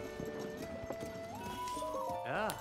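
Horse hooves clip-clop and a horse neighs in Zelda: Tears of the Kingdom at a stable after sundown, with game music and a voice over the steady hoofbeats and a whinny near the end.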